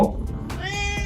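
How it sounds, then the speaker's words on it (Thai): A cat at feeding time gives one close, clear, drawn-out meow with a rising tonal pitch, over faint background noise. "ยินเสียงแมวร้องด้วยเป็นใครเนี่ย"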